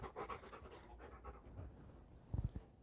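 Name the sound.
dog panting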